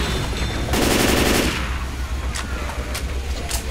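Video game gunfire in a chaotic battle: a loud burst of rapid automatic shots stands out above a constant roar of combat noise, followed by scattered single sharp cracks.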